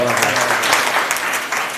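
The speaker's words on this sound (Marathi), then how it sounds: "जोरदार टाळ्या वाजवा" A kirtan audience claps loudly and steadily in a dense, continuous burst, with a voice faintly audible at the very start.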